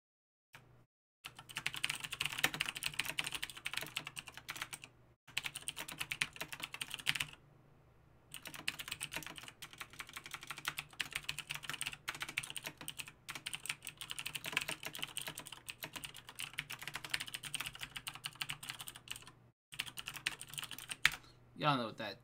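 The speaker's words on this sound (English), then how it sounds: "Y'all know what that typing means." Rapid typing on a computer keyboard goes on for about twenty seconds, with the keys clattering close and dense. It stops in a few short pauses and ends with a louder final keystroke.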